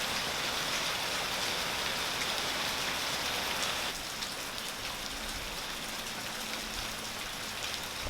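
Steady rain falls on a cold, cloudy evening as a dense, even hiss that continues alone for the whole stretch, easing slightly in loudness midway.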